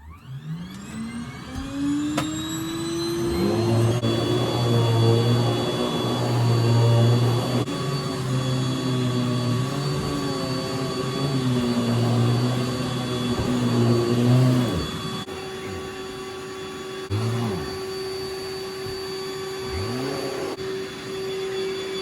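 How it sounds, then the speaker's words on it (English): A vacuum cleaner whines up to speed and runs loudly for a long stretch, its motor pitch wavering as it is pushed and pulled. "But today I'm actually going to actually vacuum."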